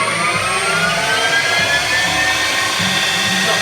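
A Harrison M300 lathe driven by a HuanYang VFD inverter spins at 2,500 RPM, giving a loud, steady mechanical whir with a constant high whine and no pauses.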